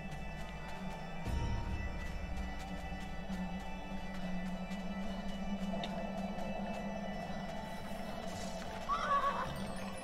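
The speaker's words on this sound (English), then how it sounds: "That's a horse over there" A horse neighs in the Trek to Yomi video game, a short whinny near the end rising over a steady low ambient drone and music, with faint hoofbeats.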